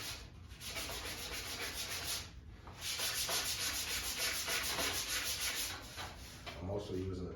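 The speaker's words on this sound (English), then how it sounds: "I'm also using a 220 and 320 sandpaper to sand it down." Hand sanding with 220 and 320 grit sandpaper on a 2008 Subaru Impreza part during restoration makes a steady, close, rhythmic scratching rub, with back-and-forth strokes and a brief pause partway through.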